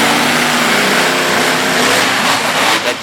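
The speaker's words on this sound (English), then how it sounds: "He's really laying on the throttle to get off the line quickly." At a monster truck competition in Durham, Connecticut, a truck engine revs hard off the starting line. It makes a loud, continuous roar that surges and swells close by.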